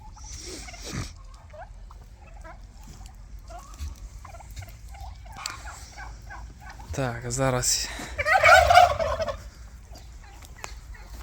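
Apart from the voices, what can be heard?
turkeys gobbling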